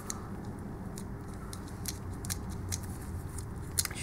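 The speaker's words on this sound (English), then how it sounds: "we can either break off that remaining wire, or we can just cut it off" Wire being snipped while fitting a new brush into a Bosch alternator regulator, a run of small, faint, close clicking cuts and crackles over a quiet hiss.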